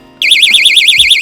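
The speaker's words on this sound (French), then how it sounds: "l'alarme se déclenche automatiquement" A Blocporte door alarm suddenly starts, a loud, piercing warbling siren that oscillates rapidly and continuously after a quiet moment, with a faint clunk at its onset.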